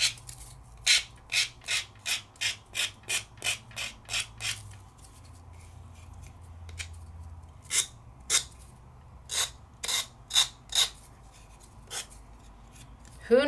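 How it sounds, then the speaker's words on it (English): A nail file rasps against the corner of a clear craft piece in a rhythmic series of about twenty short, crisp strokes, close and distinct, with a brief pause midway. "Get into that corner and just sand it off."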